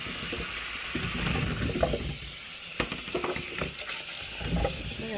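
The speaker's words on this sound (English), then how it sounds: "Pour the apples in." Apples tumble into a sink filled with cool water, giving a run of splashing, sloshing and knocking sounds at close range that rise and fall over several seconds, with no talking.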